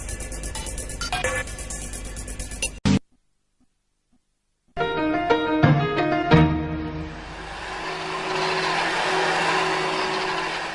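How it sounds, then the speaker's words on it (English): A household vacuum cleaner starts up after a burst of music and a short silence, then settles into a steady, loud whooshing whine that runs on to the end. "Vacuuming and polishing are necessary household chores"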